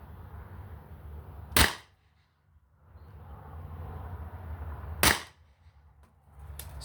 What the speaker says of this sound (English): And here's the first shot.